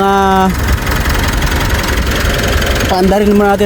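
A 2016 Mitsubishi Montero engine running at a steady idle, loud and close, with a rough continuous rumble and a brief rev or starter-like surge near the end; tonal whine bands sit over the engine noise at the start and finish.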